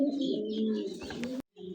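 Pigeons kept for sale coo in a low, rolling murmur close by, one continuous call that breaks off abruptly before a short final coo.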